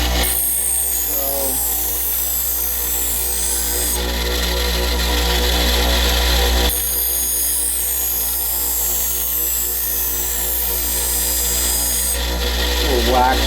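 A chef knife blade is ground against a spinning paper wheel coated with glue and sand grit in a knife shop, giving a steady loud whirring hum with harsh grinding rasps that rise and fall as the blade is pressed on.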